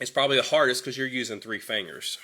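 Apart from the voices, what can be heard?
No distinct noise like a dog, phone or traffic.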